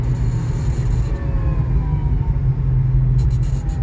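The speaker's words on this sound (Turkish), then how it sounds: "Bu sese de alışıyorsunuz değerli dostlar. Bu motorun sesi." A 2024 Volta EV1 electric car drives at night, its motor giving a steady low hum with a faint rising whine over road rumble, continuous and fairly loud, with no talk.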